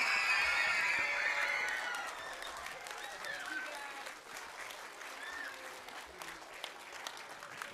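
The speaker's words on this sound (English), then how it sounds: "Students, stand up for your teachers and applaud them." Students applaud their fourth grade teachers at a school theatre festival, a dense crowd of clapping that starts strong and loud, then thins and fades to a lighter, scattered patter.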